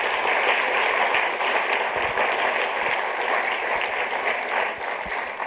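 Sustained audience applause at an engineering awards evening, thanking the judges, a dense hiss of clapping that stays loud and even over a faint background hum, with no one speaking.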